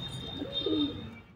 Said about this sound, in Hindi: ये बहुत ही बेहतरीन कबूतरी, ये देख सकते हैं